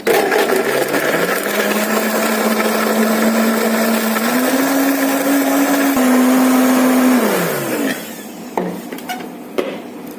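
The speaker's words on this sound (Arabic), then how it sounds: "بعد كده هنغطي وهنحطه في الخلاط وهنسيبه يتضرب لمده 10 ثواني" A loud blender whirs steadily for several seconds blending iced coffee with ice, its motor pitch rising slightly, then winds down, followed by a few clunks and clicks.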